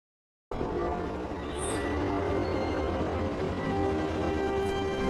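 A steady, loud rumble of a train rolling along the tracks after a brief silence, with a constant rattling drone and a faint high squeal.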